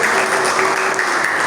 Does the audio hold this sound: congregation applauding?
yes